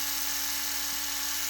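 An inexpensive electric foot sanding device hums steadily on its high setting, giving a continuous, even, high-pitched buzz that stays close and unchanging.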